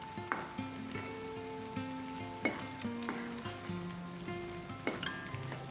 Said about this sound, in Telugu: సగం వేసుకొని ఫ్రై చేసుకుంటున్నానండి